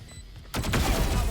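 Pistol shots from a Classic sidearm in the Valorant video game, a loud dense burst of gunfire crashing in after a quiet half second of low background hum, continuing to the end.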